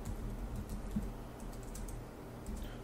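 Soft keystrokes tapped out at a steady pace on a computer keyboard while entering a Linux Mint terminal command, with faint clicks over a quiet room hum and no voices.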